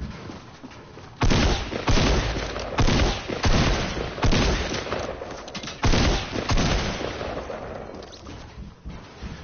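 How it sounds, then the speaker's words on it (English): Shotgun and gunfire in Fortnite, a rapid string of loud, booming blasts with heavy low-end thumps, firing in irregular bursts with short decaying gaps between shots, close and dominant. "I'm gonna go shotgun them in the face."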